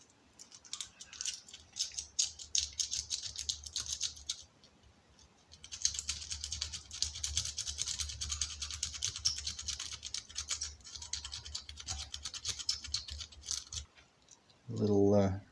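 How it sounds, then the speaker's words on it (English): Sandpaper lightly rubs the ignition points of an FJ Holden in short scratchy bursts of fine rasping strokes, close and quiet, with a brief pause midway and a louder knock at the end. "I'm just going to lightly run a bit of sandpaper through there."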